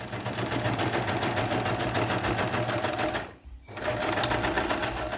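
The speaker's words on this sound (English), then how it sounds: "So you're going to sew all the way like this." Electric sewing machine stitching a fabric face mask, a steady rapid mechanical whir and needle chatter that runs close and loud, pauses briefly, then resumes.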